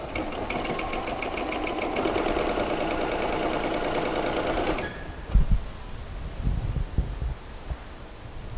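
Sewing machine stitching the side seams of a pair of shorts, a fast rhythmic close rattle running steadily for several seconds, then stopping, followed by a few soft handling bumps.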